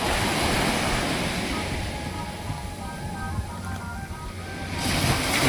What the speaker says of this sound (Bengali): ঢেউ প্রতিনিয়তই এসে আছড়ে পড়ছে।